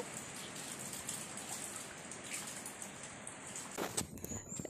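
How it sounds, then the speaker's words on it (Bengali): Rain falls steadily in hilly country while strong wind blows, a dense, continuous hiss of drops and gusts that swells near the end with a few sharper splashes. "বৃষ্টি হচ্ছে, বৃষ্টির সঙ্গে খুব জোরে হাওয়াও হচ্ছে।"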